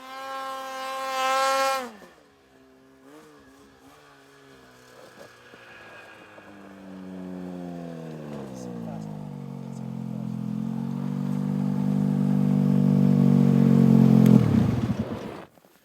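Ski-Doo Summit E-Tec two-stroke snowmobile climbing a hill. A brief loud engine whine fades, then the engine's droning pitch builds and swells steadily louder as the machine nears, before cutting off abruptly.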